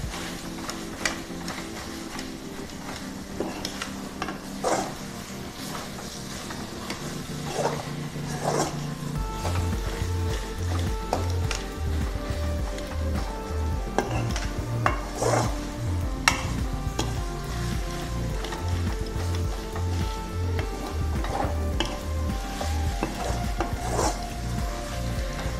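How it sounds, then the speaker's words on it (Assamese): Vegetables frying in oil in a pan for an Assamese home-style dish, a steady sizzle with repeated scraping and stirring strokes of a utensil, close and continuous with a few louder knocks. "কিছু সময় লাৰিম মই।"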